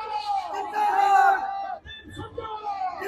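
A large crowd at Randeep Singh Surjewala's nomination rally shouts and cheers together in a loud, sustained roar, then thins to scattered shouts and babble.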